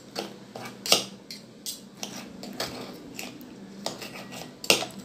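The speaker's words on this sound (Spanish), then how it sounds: "Van cortando el chile y todo lo van a ir removiendo y mezclando." Rustic Mayan-style chiltomate tomato salsa being mixed by hand, with irregular scraping clinks and knocks of a utensil against a bowl or dish, a few sharper taps standing out, close and with no talking.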